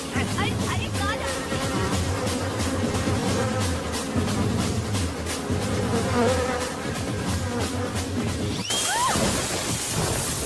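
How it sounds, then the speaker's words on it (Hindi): Honeybee buzzing steadily through a dubbed action-film scene, a sustained insect drone running under dense music and effects, with a brighter burst near the end. "भागिया या मक्खी नहीं, मधुमक्खी है।"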